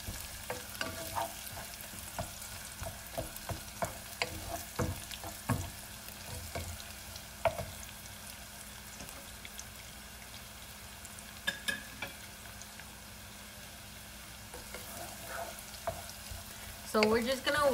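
Onion frying in a pan for Asian chicken wings, with steady low sizzle throughout and repeated scraping, clattering stir strokes; a louder burst of stirring near the end.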